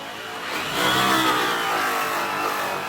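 A power buffer polishes an acid-washed aluminum wheel around the edge of the lug nuts, giving a steady, loud whirring drone that swells slightly and holds through the clip with no talking.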